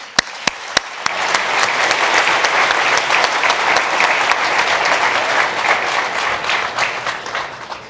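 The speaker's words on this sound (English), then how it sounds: "we can give an applause to the three panelists" Audience applause at a SaaStr Europa tech conference stage for three panelists, starting with a few isolated claps and swelling into dense, sustained clapping from the crowd.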